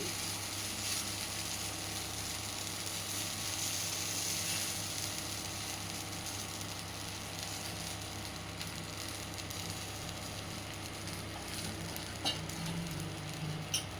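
Uttapam batter spread on a hot pan with sliced onions scattered on top, giving a steady close sizzle that holds throughout with a few faint ticks and scrapes near the end.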